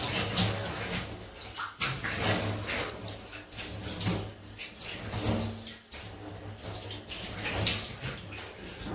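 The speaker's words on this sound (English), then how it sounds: "Quick rinse off." Water runs steadily from a tap as a safety razor is rinsed under it, a continuous close splashing rush with brief dips and surges as the blade moves through the stream.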